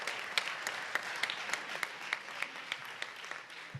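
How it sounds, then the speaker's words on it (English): Applause from a conference audience for a session panel in a UN chamber, a steady wash of many hands with a few sharper claps standing out, moderately distant and fairly quiet throughout. "Let's give them all a warm round of applause"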